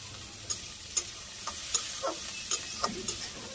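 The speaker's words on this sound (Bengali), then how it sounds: "এখানে পেঁয়াজ ভাজি হইতে থাক" Onions fry in a pan in a Bangladeshi village kitchen, giving a steady soft sizzle broken by several sharp taps and scrapes from stirring, close up and without talk.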